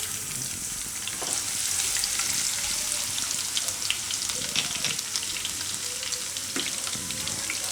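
Kalonji seeds and garlic sizzle in hot oil, a steady, close frying hiss with faint stirring clicks throughout and no talking.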